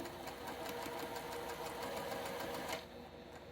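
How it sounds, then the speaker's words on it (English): A sewing machine stitches quilt blocks together in a fast, even needle rhythm that runs for nearly three seconds, then stops abruptly, leaving a quiet hum. "So I can just line them up and stitch them."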